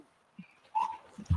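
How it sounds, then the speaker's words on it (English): A working hunting dog flushing rabbits from brush gives short, scattered whimpers and yips, one higher whine and a low bark-like burst at the end, fairly close and intermittent. "He make a god awful noise, but that boy working. That dog working, boy."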